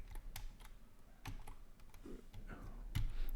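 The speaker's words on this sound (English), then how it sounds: "I'm pressing tab keys" Soft, quiet keystrokes on a computer keyboard, mostly tab key presses, come as scattered single clicks with short pauses between them.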